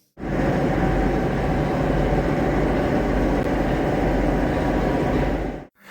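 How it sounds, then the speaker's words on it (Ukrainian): A steady, loud mechanical drone with a rapid pulsing throb from a metro train's air motor-compressor running continuously, starting and stopping abruptly. "Отже, це наш мотор-компресор, який накачує повітря в систему поїзда."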